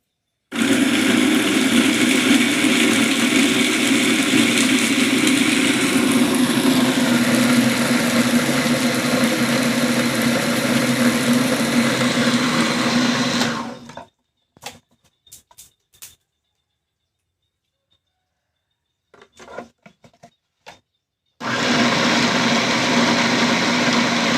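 An electric chopper minces a batch of herbs for homemade herbal shampoo with a loud, steady whirring drone. It cuts off abruptly, leaving scattered clicks and handling noises, then roars back to full power.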